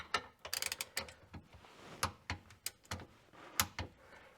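A torque wrench tightening a helicoiled rear differential bolt gives a run of sharp, close ratcheting clicks in quick bursts with short pauses between them, then a few louder isolated clicks.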